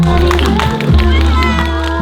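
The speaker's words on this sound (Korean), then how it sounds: "박수 부탁드리겠습니다" A school student-council event audience claps and cheers in a loud, continuous burst of applause that fills the room, with crowd noise and some voices mixed in.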